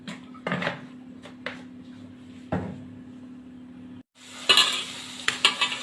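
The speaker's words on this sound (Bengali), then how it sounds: "কড়াইতে অল্প তেল দিয়ে এটাকে এখন ভেজে নেব।" A few clanks and knocks of a metal wok come first, then a loud burst of sizzling as small turmeric-and-salt-rubbed sarputi fish go into a little hot oil, the crackle continuing with a few sharp spatters.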